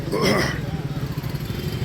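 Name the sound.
motorcycle being started and ridden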